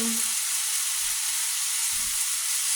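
Shrimp added to vegetables in a hot pan for island-style chicken and shrimp chow mein, giving a steady, bright sizzle close by that fills the whole moment, with faint low knocks underneath.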